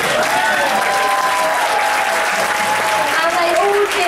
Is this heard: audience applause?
yes